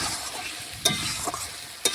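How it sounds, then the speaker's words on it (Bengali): Chicken kosha with potato is stirred and fried in a pan, giving a close, steady sizzle with two sharp spatula knocks against the pan. "চিকেনের গায়ে যেটুকু জল আছে সেটাও কিন্তু দেখুন এইভাবে নাড়াচাড়া করে আমি কষিয়ে নিচ্ছি"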